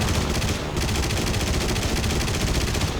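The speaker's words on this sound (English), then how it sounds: "I'll put a few machine gun rounds at them." Aircraft machine guns in the War Thunder flight game, on a Yak-9K, fire a continuous rapid rattling burst that stays loud and dense throughout.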